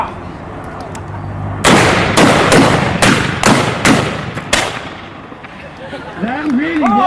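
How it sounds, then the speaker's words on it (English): A line of historical reenactors of a volunteer rifle regiment firing rifles down the line, six loud close cracks in quick ragged succession with echoing tails, followed by people talking. "Fire down the line. Fire!"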